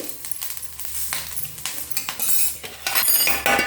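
A spoon scrapes and clinks against a pan while lifting sautéed ingredients for kadala curry into another vessel, a quick run of metallic scrapes and taps close up.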